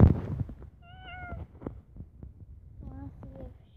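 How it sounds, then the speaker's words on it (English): A cat with a collar gives two short, high meows separated by a pause, fairly close but soft, after a brief rustle at the start, with quiet low background noise. "She's meowed at me a lot."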